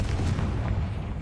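A Confringo blasting spell going off in a video game, a deep rumbling boom that stays heavy and sustained through the short moment with no voice.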